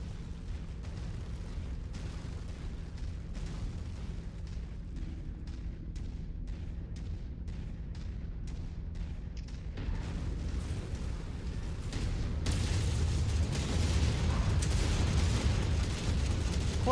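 Continuous battle din from the MechWarrior 5 mech combat game: rumbling explosions and rapid weapons fire with a steady low roar, growing louder and denser toward the end.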